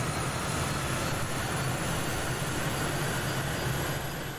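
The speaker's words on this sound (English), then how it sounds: "The second engine will now start." A second aircraft engine spools up after a cross-bleed start, giving a steady, loud, continuous roar and whine that holds even throughout, with no talking.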